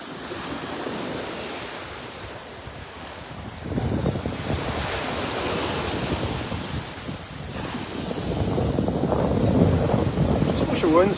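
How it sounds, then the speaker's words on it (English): Strong wind buffets the microphone over steady surf breaking on a Gulf beach at Delnor-Wiggins near Wiggins Pass in North Naples, Florida, with the wash of waves swelling louder toward the end. "Just wish it wasn't so windy out here."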